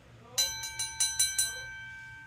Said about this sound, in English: this is the last time I can say I never heard this wonderful IBM 10-inch bell ring because I have now